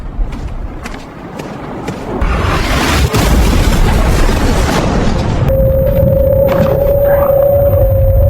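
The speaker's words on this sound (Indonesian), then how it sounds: "sebuah bom meledakan lobi rumah sakit" A bomb blast tears through a hospital lobby, a loud broad roar of rumble and debris that sustains for several seconds, then gives way to a steady high-pitched ringing tone.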